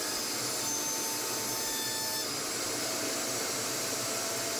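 Saw cutting the rounded edge off a wooden 2x4 board for a cornhole set, a steady continuous rasping cut that runs loud and close the whole time with no talking.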